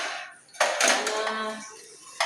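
Dishes being washed by hand in a home kitchen after a morning's cooking, with clattering pots, pans and cutlery knocking together in a steady run of close, busy clinks and scrapes.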